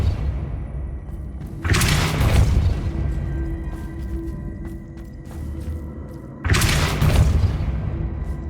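Two heavy booming impacts of the Depulso spell in the video game Hogwarts Legacy, each a loud broadband burst separated by several seconds, with a low rumbling ambient bed in between.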